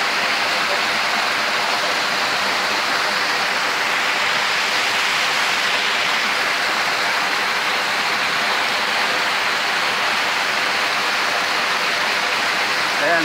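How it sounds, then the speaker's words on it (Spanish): Water pours down at El Tuncaj, Granados, Baja Verapaz. It makes a steady, full rushing roar like a waterfall or fast stream, close and constant the whole time, and a voice talks over it now and then. "Vean, desde allá viene el agua, baja por todo este lugar."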